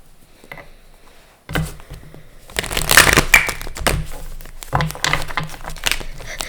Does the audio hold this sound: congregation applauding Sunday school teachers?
no